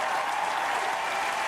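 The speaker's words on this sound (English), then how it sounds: "Round of applause for Pescatore" A burst of steady applause from a crowd, dense clapping at an even level throughout.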